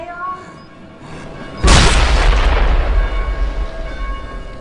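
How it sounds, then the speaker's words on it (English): A sticky bomb in a zombie video game goes off with one sudden, loud, booming blast that decays into a rumbling roar, after a quieter stretch of game ambience. "it's going to explode when it gets stuck in the zombie"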